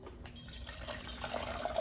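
Hot water from a tap runs and splashes steadily, a soft continuous trickle with faint dripping, used for warming an Estonian military ration chili pouch.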